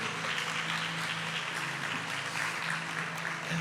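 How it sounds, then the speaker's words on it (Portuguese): A church congregation applauding at the end of a Women's Day service: a steady, even roar of many hands clapping, sustained throughout with no talk over it. "pode aplaudir, né, a vida de vocês"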